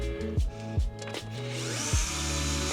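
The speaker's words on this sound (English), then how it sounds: "So I'm removing the remaining screws here." Power drill backing out seat screws inside a Tesla Model X, three short rising-then-falling whirring bursts followed by a longer sustained run, close and fairly quiet, with no talk.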